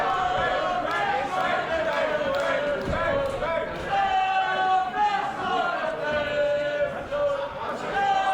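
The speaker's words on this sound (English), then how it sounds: "there is a small contingent of the crowd that is cheering for Flash Morgan Webster" A professional wrestling crowd cheers and chatters steadily for Flash Morgan Webster, a continuous arena din with scattered shouts, while a commentator talks over it.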